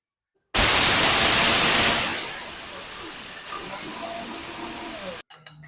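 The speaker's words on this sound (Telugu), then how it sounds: "నెక్స్ట్ మనం మినపప్పు కూడా మిక్సీ పట్టేసుకుందాము." A mixer grinder grinding urad dal whirs loudly with a harsh, steady roar that eases to a lower grind before cutting off abruptly.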